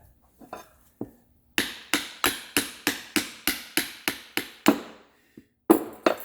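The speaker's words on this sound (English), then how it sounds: "Now we can take this over to the bench and hammer off that wonderful pad" Metal hammer strikes knock a brake pad loose from the caliper carrier of a 2012 Volkswagen Jetta GLI rear brake on a workbench: a few scattered taps, then a steady run of about ten sharp, evenly spaced blows, a pause and a few more hits.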